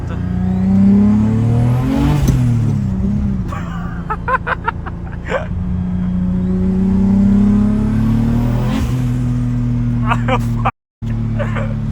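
A 700 HP single-turbo M50 BMW E36 drift car on a street, heard from inside as a loud engine drone that rises and falls with revving and acceleration, with brief clicking sounds and people talking over it.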